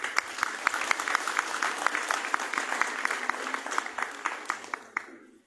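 Sustained applause from a crowd, many hands clapping steadily for several seconds, with sharp individual claps standing out before it fades at the end.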